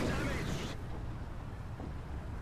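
A tank cannon fires in War Thunder with a loud, broad blast, and its rumbling tail fades over the next couple of seconds.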